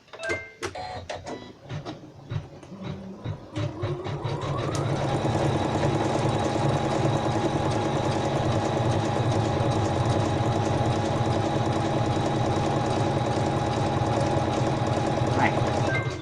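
A computerized embroidery sewing machine runs steadily at close range, laying down a dense satin stitch for a coaster after a few sparse starting stitches, its fast even mechanical buzz holding constant throughout.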